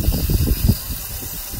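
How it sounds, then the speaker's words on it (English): Cooking spray hisses onto a hickory-smoked Thanksgiving turkey inside a Gateway drum smoker: a close, breathy spray burst for under a second, then a quieter steady hiss of the smoker. "spray it again with cooking spray to keep on working on keeping it brown and crisping up"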